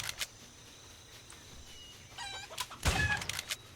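A chicken in the CryoFall video game squawks and clucks in a brief flurry near the end, with flapping and a sharp impact, after a few quiet clicks.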